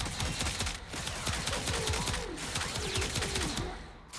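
In the Warframe video game, a Tenet Tetra rifle fires a rapid run of sharp shots with brief pauses between bursts, loud and close.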